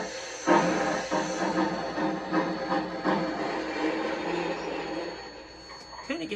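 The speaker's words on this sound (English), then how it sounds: "So back the locomotive up." A Bachmann two-truck Shay model locomotive with sound decoder backs up, giving rhythmic chuffing bursts over a soft mechanical whir and hiss, close and fairly quiet, with a few clicks at the end.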